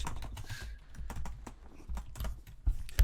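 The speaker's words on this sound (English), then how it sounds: "this is how loud my keyboard is normally" A loud computer keyboard is typed on, giving rapid, uneven clacking keystrokes close up, with a few heavier thumps near the end.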